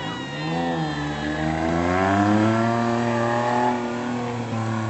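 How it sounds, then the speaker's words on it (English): A car engine revs steadily and loudly at a Canadian Hell Drivers stunt show in Reading, Pennsylvania, its pitch rising and holding high before easing off slightly, with no voices present. "He's revving it up."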